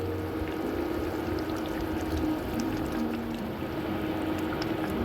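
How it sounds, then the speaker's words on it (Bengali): Water pours steadily into a simmering Bengali koi fish curry cooked in oil (koi macher tel jhaal), making a continuous soft rushing and bubbling sound heard up close for several seconds. "এবার আমি জল দিয়ে দেবো এটার মধ্যে।"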